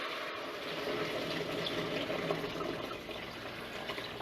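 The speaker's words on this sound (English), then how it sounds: "We're going to go in with the water now. The whole Brita pitcher." Water from a whole Brita pitcher pours steadily into a cooking pot for veggie stock, a continuous splashing rush that holds even and fairly close for several seconds.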